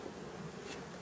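Honey bees buzz steadily around beehive frames during a honey harvest as wax built between the frames is broken away, a dense, continuous hum filling the moment, close and moderately loud, with no voices.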